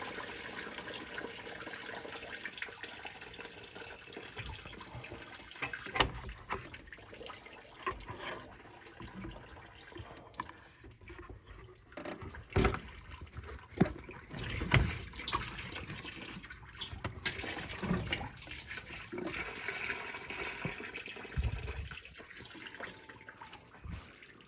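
Water flushes through the cooling system of a 1990 Ford F-250 with the 5.8L engine, a continuous close splashing and trickling broken by occasional sharp knocks and clatters.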